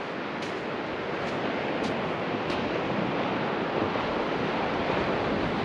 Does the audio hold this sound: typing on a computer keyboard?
no